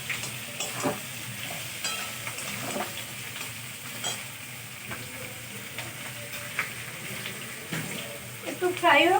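Ginger, garlic and green chilli frying over high gas in a pan, a loud continuous sizzle with stirring scrapes and a splash of running water near the end.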